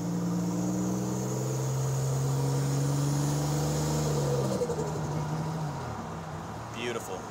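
A 1987 Buick Grand National, rolling into the throttle without brake boosting, gives a loud, steady engine drone whose pitch climbs smoothly, then dips as if shifting, and pulls again.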